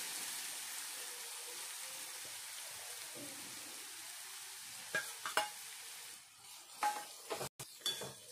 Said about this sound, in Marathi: आता ह्या गाजर या तुपामध्ये छान असा फ्राय करून घ्यायचा